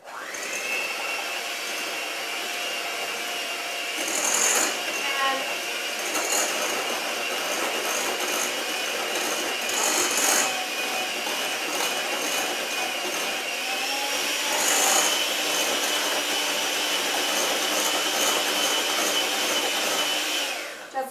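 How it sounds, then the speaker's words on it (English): Electric beater whirring steadily through cake batter, a continuous high motor whine with slight pitch wobbles and brief surges as the beaters shift in the bowl, close and loud with no talking. "with an electric beater, I'm just going to go ahead and mix all of these together"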